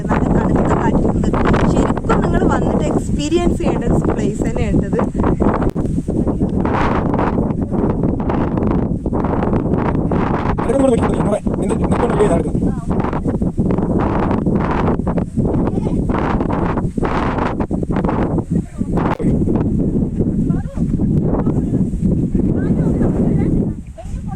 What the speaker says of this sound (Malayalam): പക്ഷെ ഈ സമയത്ത് നല്ല കാറ്റടിക്കുന്നു